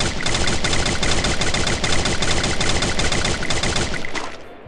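Dense, rapid gunfire from the video game Free Fire crackles nonstop for several seconds, loud and close, like sustained automatic weapons fire in a battle, tapering off briefly at the end.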